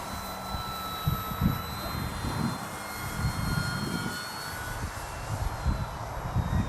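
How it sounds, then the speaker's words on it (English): An Arrows Hobby Bigfoot RC model plane flies outdoors on its maiden flight, its electric motor giving a steady whine under heavy wind rumble and buffeting throughout. "It's a very, very light plane."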